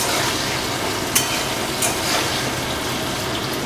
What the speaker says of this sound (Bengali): এবারে আলুটা ভাজতে ভাজতে